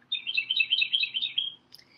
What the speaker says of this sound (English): That's a wren. I think it is.